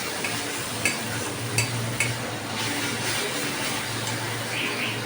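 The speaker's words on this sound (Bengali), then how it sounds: "দেখো মশলা প্রায় ভাজা হয়ে এসছে, মশলা থেকে তেল ছাড়তে শুরু হয়েছে।" Spice masala fries in oil in a wok with a steady, even sizzle, punctuated by a few sharp clicks of a stirring utensil against the pan.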